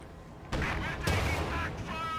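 A pack anti-tank gun firing at a command tank in Company of Heroes 2, a sharp loud report followed by a second heavy crack amid ongoing battle sounds.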